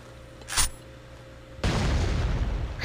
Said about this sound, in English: Just explosions in the background.